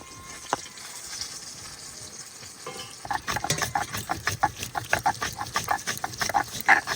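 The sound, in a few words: fish frying in a pan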